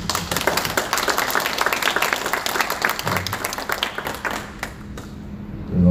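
Guests clap at a thank-you luncheon honoring Korean War veterans, a brisk burst of applause with distinct individual claps that fades into quieter scattered clapping and room noise.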